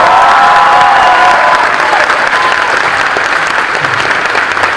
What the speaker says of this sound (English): Let's give it a round of applause for.